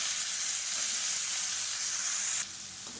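Onions, green chillies, curry leaves and tomatoes sizzle steadily as they sauté in a pan, a continuous close frying hiss that drops slightly in level near the end.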